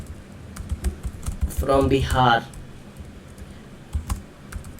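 Quick, light keystrokes tapped on a computer keyboard while entering text for HTML heading tags, clicking in short bursts around a brief stretch of speech.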